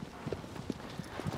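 Horse hooves clip-clopping at a steady trot in Shadow of the Colossus on PS5, soft rhythmic thuds at regular intervals, faint and fairly distant.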